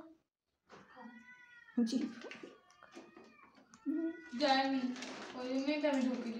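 A cat meows several times, drawn-out and whiny cries, close by, with a person talking softly in between.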